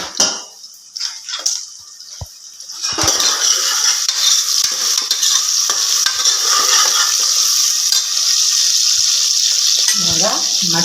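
Onions sauté in a pan for beef gravy with a loud, continuous sizzle. Metal spoon scrapes and clinks against the pan run throughout, and the sizzle starts after a few seconds of sparse stirring sounds.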